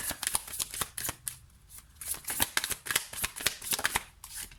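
Tarot cards shuffled briskly by hand, a dense run of sharp riffling flicks and slaps in quick bursts, close and fairly loud, with no speech.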